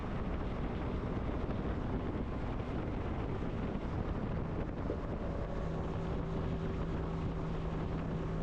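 Steady wind roar buffeting the microphone while riding a 1986 Honda Helix scooter in winter, with a faint engine hum that rises into a few steady tones partway through.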